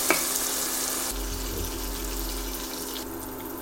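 Onions and tomatoes sauté in a pan for a Goan chicken sukkha, a steady close sizzle and hiss with faint stirring, no voices.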